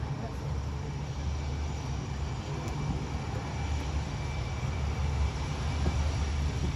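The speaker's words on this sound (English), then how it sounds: "Reversing propeller." A C-130 transport aircraft backs up using reversed propellers at the Blue Angels air show in Pensacola, Florida, producing a steady, loud, low engine drone and broad propeller roar that swells slightly, with a voice talking over it.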